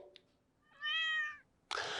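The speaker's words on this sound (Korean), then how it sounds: "이 소리는 바로 고양이의 소리예요." A cat gives one clear, drawn-out meow near the microphone, framed by a quiet background, a tiny click just before and a burst of noise right after.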